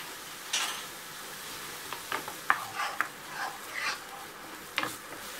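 Butter stirred into spaghetti with tomato sauce in a pan, giving soft intermittent scraping and clicking stir sounds over a faint sizzle, close and fairly quiet with no talk.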